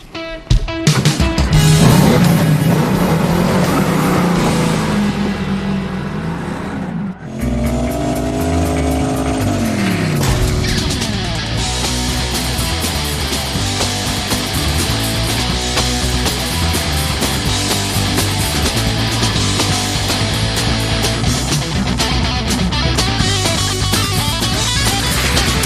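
A Pontiac Trans Am V8 engine with a six-speed transmission roars and revs loudly and close, rising and falling through sustained throttle bursts with a throaty, rumbling exhaust.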